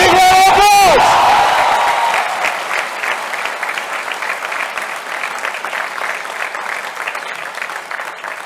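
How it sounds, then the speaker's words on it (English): A campus audience at IIT Kharagpur breaks into applause after a brief cheer and whoop, loud dense clapping that gradually thins and fades over several seconds. "I think you should give a big round of applause"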